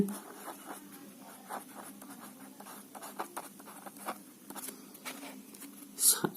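Pen scratching out a Class 9 geometry proof on paper, soft irregular strokes and taps close to the microphone, faint and steady, with a brief louder rustle near the end.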